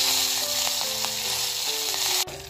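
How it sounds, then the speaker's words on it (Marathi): Curry leaves hit hot oil for a tempering with mustard seeds, asafoetida and garlic, giving a loud, steady close-up sizzle that drops off abruptly near the end. "आणि आता ही कढीपत्त्याची पानं घालूया."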